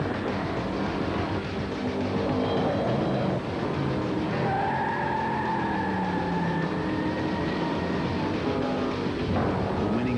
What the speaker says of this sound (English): Introducing the race-modified Chevrolet Monte Carlo.